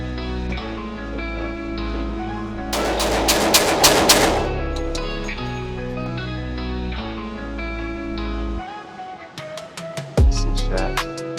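A 9mm Glock 19 pistol fires a rapid string of sharp, loud shots at a target, followed after a pause by another quick burst of shots over a steady background hum.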